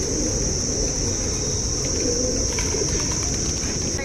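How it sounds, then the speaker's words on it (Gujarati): Pigeons bathing in an open pool of water coo faintly amid a dense, steady outdoor wash of noise with a constant high insect-like whine, no voices. "જો સામે પાણી છે ને એમાં નાતા હોય કબૂતર."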